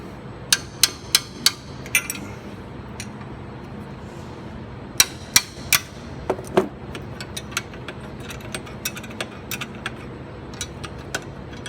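Sharp metallic taps ring out in quick clusters, a small hammer striking metal bolts repeatedly to loosen them, some blows loud and others lighter, over a low background hum.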